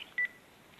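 A single short phone notification beep for an incoming comment rings out clearly once against a quiet, faintly hissing background.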